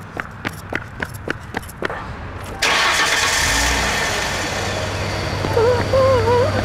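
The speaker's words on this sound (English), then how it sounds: "Start the car!" A car starts in a comedy sketch: a run of about ten rapid starter clicks, then the engine catches with a sudden surge and settles into a loud, steady idle close by. A faint whistle-like tone rises near the end.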